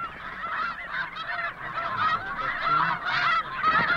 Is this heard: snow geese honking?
yes